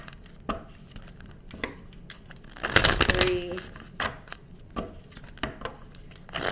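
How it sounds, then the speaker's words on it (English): A deck of tarot cards being shuffled, close, irregular papery taps and riffles with a denser flurry of card slaps midway. "Let's shuffle 5 times and get going"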